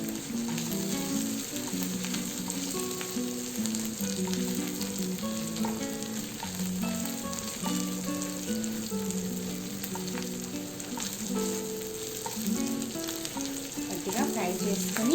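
Vegetables fry and sizzle steadily in a pan with turmeric while cabbage and pea curry is made, a continuous close crackling hiss with a faint background hum and no talk.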